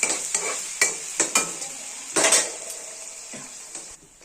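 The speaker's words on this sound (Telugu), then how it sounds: "మనం ఇప్పుడు ఇదిగో ఈ ఉల్లిపాయలు మగ్గించుదాం" Onions frying in a pan as a spoon stirs them, with repeated scraping and clinking strokes over a steady sizzle. A louder burst of stirring comes midway, all close up with no talk.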